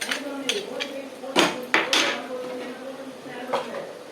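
A tempering of mustard seeds and urad dal is tipped from a metal pan into a coconut and raw mango chutney, with a few clanks and knocks of the pan over a soft sizzle.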